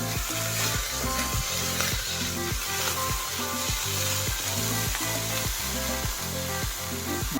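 Chicken sizzles and crackles steadily in a hot pan as soy sauce goes in, a dense, close frying hiss with a rhythmic scraping of stirring throughout and no voices.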